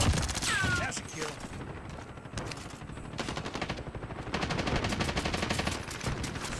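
Rapid automatic gunfire from a video game shooter runs loud and almost unbroken through the whole clip, with a few brief dips and overlapping bursts of shots.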